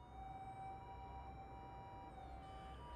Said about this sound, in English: In the distance, the sound of sirens continued to echo endlessly